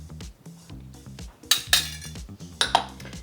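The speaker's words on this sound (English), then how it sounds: "the first step is to add all our dry ingredients and whisk them together" A metal whisk stirring dry ingredients (almond flour, baking soda, xanthan gum, salt) in a bowl for keto cookies, with a muffled rhythmic swish and several sharp clinks against the bowl's sides, close and clear.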